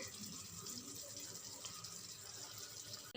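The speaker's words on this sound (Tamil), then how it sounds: "நல்லா கொதிக்குது" Steady bubbling and simmering of water in a pot while making mutton biryani, a continuous watery hiss with no talking, ending with a brief clunk.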